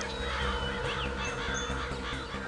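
Crows cawing near water, several harsh calls overlapping against a steady background hum, at moderate distance with no speech.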